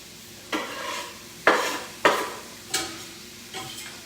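Chopped herbs going into a skillet with coconut oil sizzle softly, while five sharp scraping stirs of a utensil against the pan sound at irregular intervals.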